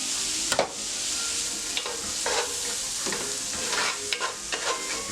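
Chicken tetrazzini mixture sautés in a pan with a bright, continuous sizzle close by. A spoon scrapes and stirs in quick, uneven strokes, and no one talks.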